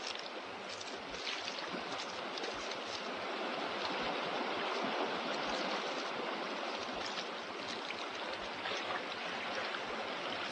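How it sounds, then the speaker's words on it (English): A river flows steadily with a broad, continuous watery rush that holds level for the whole stretch, no voices over it. "it is a beautiful river."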